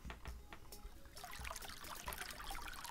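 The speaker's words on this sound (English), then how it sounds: "I get a water trickling noise" Water trickles and splashes softly and continuously as a digital ambient sound effect, a quiet steady flow picking up fuller in the second half, with light clicks early on.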